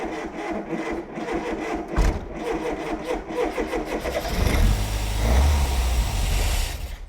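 An old barn-find Ford engine cranks repeatedly with a rhythmic churning, then catches and revs roughly at close range.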